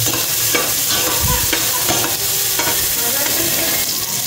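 Aromatics sauté in a hot pan until browned, a loud continuous sizzle with occasional scraping stirs of a utensil against the pan, close and steady with no voices.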